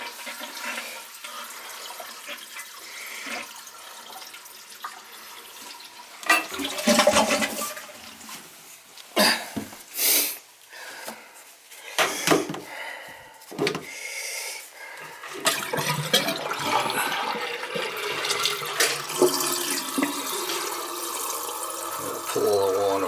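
An old wall-hung toilet flushes with rushing, gurgling water and draining bursts, heard up close alongside some background talk.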